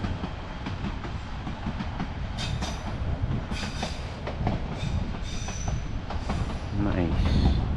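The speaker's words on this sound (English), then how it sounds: "Oh, look at that train. Beautiful train." A train rolls past in Skagway, Alaska, its steady rumble and rhythmic wheel clatter running loud and continuous, with faint wheel squeal and a few brief voices nearby.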